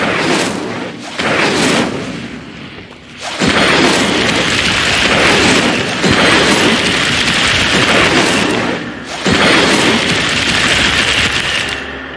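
Incendio fire spell cast in Hogwarts Legacy, a loud, sustained roaring whoosh of flame that drops off briefly a few times before surging back.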